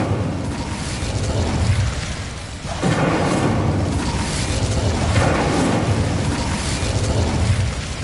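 A fire spell cast in Hogwarts Legacy, heard as a sustained roaring, whooshing burst of flame with a fresh surge of blast around the third second, loud and continuous with no talk over it.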